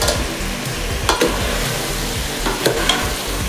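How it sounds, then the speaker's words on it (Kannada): Field beans being stirred in hot tempering oil for a chicken curry: steady close sizzling with rhythmic scraping strokes of a spoon, a couple of sharper knocks, no voices. "ಕಾಳು ಸ್ವಲ್ಪ ಮಿಕ್ಸ್ ಮಾಡ್ಕೋಬೇಕು ತೀರಾ ಡೀಪ್ ಫ್ರೈ ಏನು ಮಾಡೋದೇನು ಬೇಕಾಗಿಲ್ಲ ಸ್ವಲ್ಪ ಒಗ್ಗರಣೆಗೆ ಹೊಂದ್ಕೋಬೇಕು"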